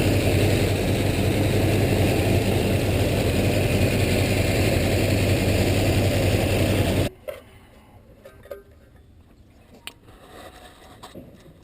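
A numbers-matching 1969 Chevelle SS 396 L35 V8 with a big Holley carburetor, high-rise manifold and headers idles loud and close with a deep steady rumble, then cuts off abruptly, leaving quiet handling noises.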